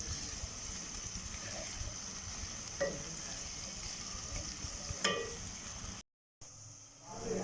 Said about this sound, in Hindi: प्याज को हम गोल्डन फ्राई होने तक फ्राई करेंगे। आंच को तेज़ कर देंगे ताकि प्याज हमारी जल्दी से फ्राई हो जाए।